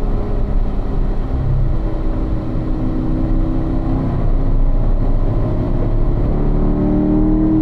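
Car engine driven on a race track, a loud continuous drone with rising and shifting harmonics as revs climb through the gears, close and steady throughout.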